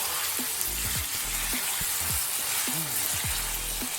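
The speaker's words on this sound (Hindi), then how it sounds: "तब तक इसको फ्राई करेंगे जब तक चिकन का अपना पानी ड्राई नहीं हो जाता" Chicken pieces fry in a pan for shorba, a constant close sizzle with scattered pops and spatters, joined by the scrape and knock of stirring.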